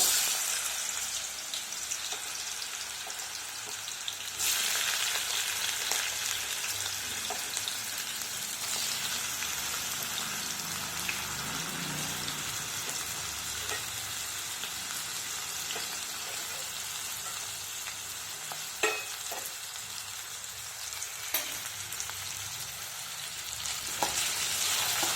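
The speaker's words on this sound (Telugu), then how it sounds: "ముందుగా బంగాళదుంపలు ఫ్రై చేసుకుందామండి" Potato pieces frying in oil in a pan make a steady, dense sizzle that runs unbroken throughout, with a few faint clicks and stirring scrapes. No one speaks.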